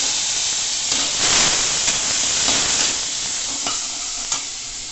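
Soy sauce poured into a hot pan of chilli paneer hisses and sizzles steadily, with stirring scrapes and a few sharper bursts of spitting, close and fairly loud, with no talk.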